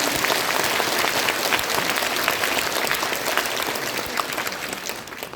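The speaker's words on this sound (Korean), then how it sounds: "우리 서로 감사하는 의미에서 박수 한번 쳐주시고." Sustained audience applause at a ceremony, a dense clatter of many hands clapping at moderate distance, holding steady for several seconds before thinning slightly toward the end.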